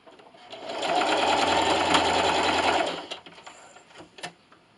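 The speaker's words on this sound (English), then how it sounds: "And don't forget to backstitch at the end." Sewing machine stitching fabric for an Easter carrot treat bag, a steady rapid whirring run of about two seconds that slows and stops, followed by a few soft clicks and handling knocks.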